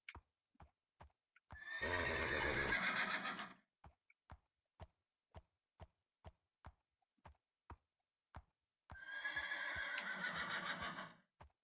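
A horse in Minecraft whinnies twice, each a loud, drawn-out neigh about two seconds long. Regular soft clip-clop hoofbeats tick steadily in between and throughout.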